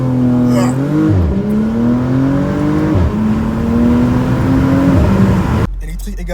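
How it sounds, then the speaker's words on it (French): Porsche Panamera with 462 hp launching under launch control: a loud engine note climbs steadily, drops at each gear shift and climbs again, then cuts off abruptly near the end, heard from inside the car. "Donc les amis, petit launch control."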